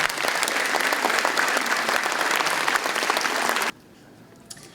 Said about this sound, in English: let's give them a big round of applause for making it this far